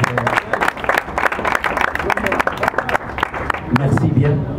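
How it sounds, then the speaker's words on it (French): An audience at a national deputy's press point applauds with dense, steady clapping, fairly close and loud throughout, swelling slightly near the end, with voices mixed in. "ça mérite vraiment des applaudissements"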